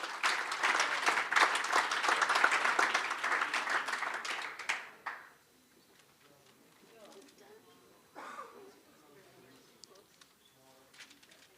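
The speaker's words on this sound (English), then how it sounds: "Give them another round of applause." Audience at an awards evening bursts into loud, dense clapping for several seconds before it dies away abruptly, leaving a quiet room where a voice speaks briefly.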